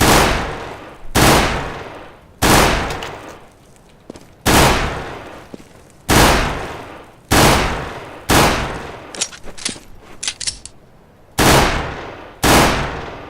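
Glock burst fire in the video game CS:GO: about ten loud, sharp bursts spaced roughly a second apart, each a quick cluster of shots with a decaying tail, plus a few quieter clicks in between.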